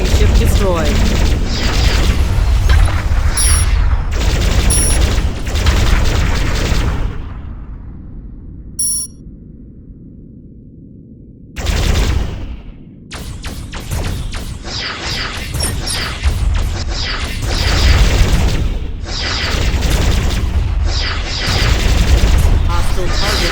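Spaceship weapons fire and explosions in the space combat game Starpoint Gemini 2, with loud sustained volleys and blasts. A quieter low rumbling lull follows, then a fresh burst of rapid impacts, under occasional voiced game announcements.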